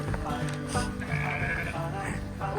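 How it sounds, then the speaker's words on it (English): Several sheep bleat close by in remote Scotland, overlapping calls repeating every half second or so over some background movement. "We're getting attacked by sheep."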